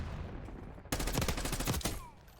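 A burst of rapid automatic gunfire in the video game Call of Duty: Black Ops. Quiet ambience comes first, then a sharp, loud volley of closely spaced shots lasts about a second before cutting off.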